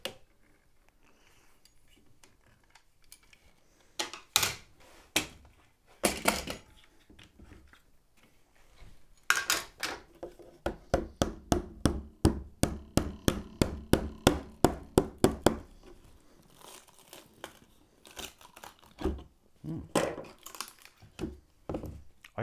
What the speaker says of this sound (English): let's take the clamps off